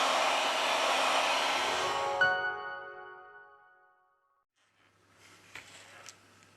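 A heat gun blows steady broadband hot air at a Samsung Note 10 Plus phone screen for about two seconds, then cuts off and whines down, followed by faint handling clicks and rustle.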